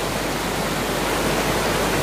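A small waterfall pours steadily over rocks beside a riverside picnic spot, a loud, close, unbroken rush of flowing water with no other sounds.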